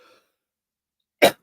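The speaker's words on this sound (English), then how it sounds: "Oh man, I got a cough." One sharp, loud cough close to the mic after a brief silence.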